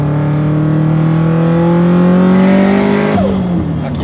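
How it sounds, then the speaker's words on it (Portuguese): Subaru WRX STi with a custom exhaust tuned for a deeper note, revving hard to about 6000 rpm: a loud, rising engine roar with climbing harmonics that then drops off as the throttle is released. "A gente dimensionou o escape para ele ter esse ronco um pouco mais grave"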